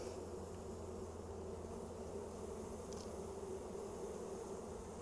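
Honeybees from a hive buzz in a steady, dense drone after being dusted in a sugar shake, a continuous low hum with no breaks and no voices.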